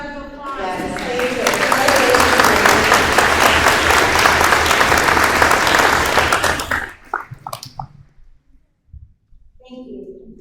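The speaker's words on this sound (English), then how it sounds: "We would like to give you a round of applause." An audience at a school board meeting breaks into loud, dense applause for about seven seconds, then it stops abruptly, leaving a few scattered claps and brief voices.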